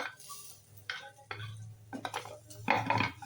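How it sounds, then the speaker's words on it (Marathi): Vermicelli and tomato are sautéed in a pan, a few close scraping strokes and soft metallic taps of a spoon against the pan, quiet and without talk. "आता आपण छान हे सगळं परतून घेऊया"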